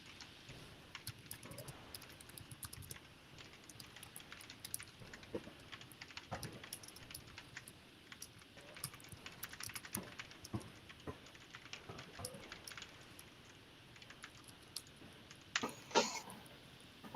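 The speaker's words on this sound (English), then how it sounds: "Meanwhile, I will get typing practice." Quiet typing on a computer keyboard, a steady scatter of soft key clicks with occasional louder taps, nearby but faint, and a brief cough or throat clearing near the end.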